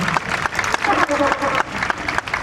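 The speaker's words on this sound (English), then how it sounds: "A round of applause for him." An audience gives a short burst of applause for Chief Solomon Ojukwu, a dense continuous clatter of many hands with voices mixed in underneath.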